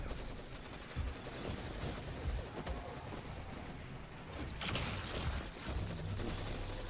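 Distant, muffled bursts of rapid gunfire from a Destiny 2 battle in the Tower, crackling steadily beneath a dense ambient game soundscape, no talk.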